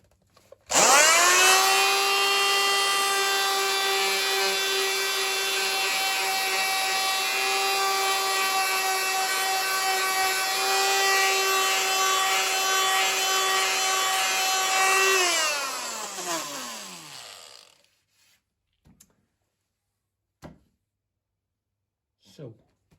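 Detail sander, also called a mouse sander, with Velcro-backed sanding sheets, running on wood: a loud, steady electric whine with a strong buzzing tone for about fifteen seconds before winding down, followed by a few faint knocks.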